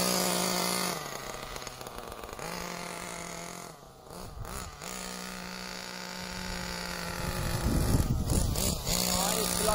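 A small nitro engine on a GM Nitro Bull 21 RC car buzzes loudly and continuously during break-in, revving up and down in pitch with brief dips, raspy and near.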